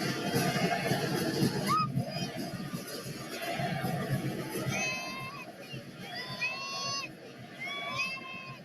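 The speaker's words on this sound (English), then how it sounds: "You can hear the chants for Leo Messi" A stadium football crowd chants for Leo Messi, heard as a broad roar of massed voices with rising, sung chant phrases. A commentator talks over the crowd.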